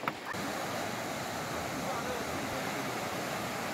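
Rushing water of the Soča river in Slovenia, a steady broadband roar that holds loud and close throughout, with a brief bump at the very start.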